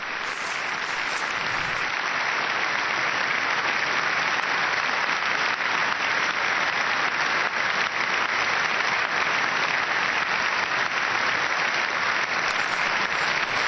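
Sustained applause fills the federal parliament after the Pope's speech, a dense, even wash of many hands clapping that continues throughout without a break.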